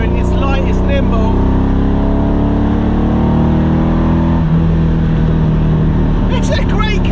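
A Ferrari sports car with no power steering, close to a 348 in character, drives with a loud steady engine drone and road roar throughout, with someone talking over it at the start and end.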